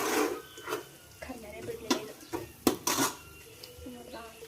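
Coriander and chili powder fried in a pan, heard as a spatula scraping and clinking against metal in short irregular strokes, with a faint sizzle underneath.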